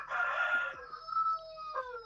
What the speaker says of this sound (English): You have the best chickens.